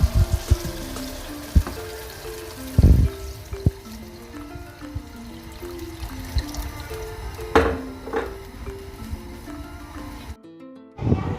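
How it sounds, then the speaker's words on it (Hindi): About a litre of water poured into a beef karahi of browned meat and softened tomatoes, a loud splash and gush over sizzling, with clinks and a brief pause near the end. "अब इसमें मैं शामिल करूँगी तकरीबन 1 लीटर के करीब पानी।"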